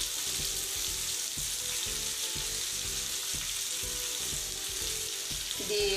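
Bitter gourd fries in a pan with garlic, chili, coriander and jaggery spice powder, giving a steady, loud sizzle with faint stirring scrapes throughout.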